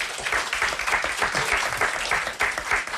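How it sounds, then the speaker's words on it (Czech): Studio audience on a Czech television show applauds a contest winner, steady dense clapping throughout at close, full volume. "Potlesk pro vás."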